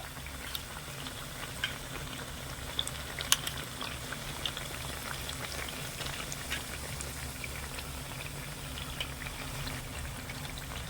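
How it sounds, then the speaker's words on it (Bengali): Pieces of bread fry in hot oil over medium-high heat for a sweet dish, giving a steady, busy sizzle with scattered small pops and crackles throughout, moderately loud and without talk. "কয়েক টুকরো পাউটি দিয়ে দিয়েছি এবারে উল্টে পাল্টে একটু লাল করে ভেজে নেব"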